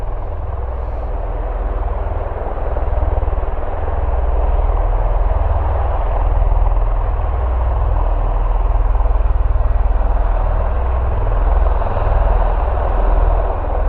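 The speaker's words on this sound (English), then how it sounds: "aircraft actually taxiing out at the same time. So you've got your 2 Ospreys" Osprey tiltrotor aircraft taxiing out at an airport, a loud continuous low rumbling drone with a steady rotor-like throb that swells slightly and stays constant throughout, with no talk.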